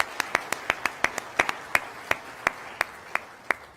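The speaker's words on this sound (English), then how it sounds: "Let's give them a round of applause as well." A handful of audience members clap for the reporters on a congressional debate panel, with sharp, distinct individual claps in a loose, uneven rhythm that thins out and slows toward the end, heard fairly close in a quiet hall.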